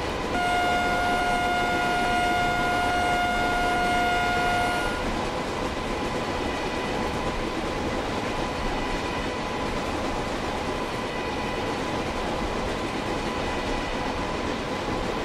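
Tejas Express train in MSTS Indian Train Simulator running at high speed, a loud continuous rumble and rail roar with a sustained horn blast that cuts off after about five seconds.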